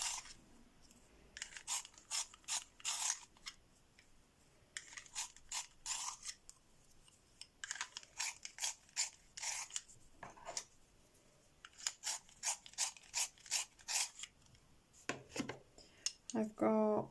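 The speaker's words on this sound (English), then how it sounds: "Just going to sharpen that as well." A brown colored pencil ground in a small hand pencil sharpener, giving repeated bursts of bright scratchy grinding turns in clustered rhythmic groups, close and clear, with a brief low voice near the end.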